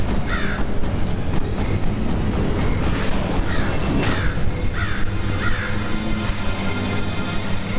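A crow in an animated cartoon caws several times in short rasping bursts, loud and close, over a dense, busy soundtrack background.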